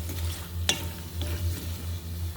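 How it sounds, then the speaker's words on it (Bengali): Fish and potatoes frying together in a pan, a continuous sizzle with a low steady hum beneath and one sharp scrape of stirring, no talk. "মাছগুলোর সাথে দিয়ে দিচ্ছি আলুগুলো, দুটোটাই নেড়ে চেড়ে"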